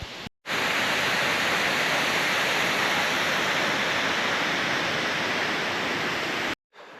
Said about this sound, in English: We went and saw a waterfall.